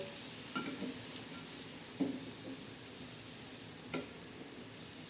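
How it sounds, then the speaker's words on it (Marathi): Bombay duck fish fry on a tava with a continuous hiss, broken by a few scraping knocks as the pieces are stirred and turned, close and moderate in level. "बोंबील कसे सगळीकडून शिजल्या जातील तर असं सगळीकडून कडाकडाने असं मस्तपैकी हलवून घ्यायचं"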